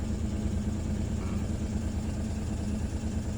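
A car engine idles at about 1100 RPM during a check for an O2 sensor fault and an idle control system fault: a steady, even low rumble with no change in pitch.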